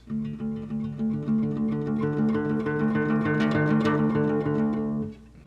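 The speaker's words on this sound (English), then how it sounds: "subtle bend and then release back down into the original note." A sustained guitar note slowly bends upward and then settles back down, played softly with other strings ringing under it.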